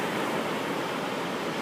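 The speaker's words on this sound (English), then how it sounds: "you really tend to see the waves coming in." Big ocean waves roll in at Hanalei Cove, a faint, steady wash of surf noise with no voices.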